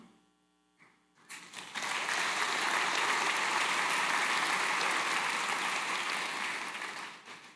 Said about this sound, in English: I think you have another applause coming.